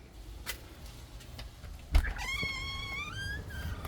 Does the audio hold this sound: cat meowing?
yes